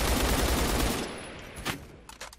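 Rapid gunfire in the Roblox shooter Phantom Forces, a dense, loud stream of automatic shots that cuts off after a second, followed by scattered fainter distant shots.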